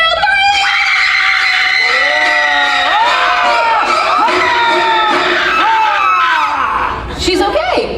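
An audience at a special effects show at Universal Studios Hollywood screams loudly on cue, a sustained chorus of shrill voices lasting several seconds before trailing off into murmurs.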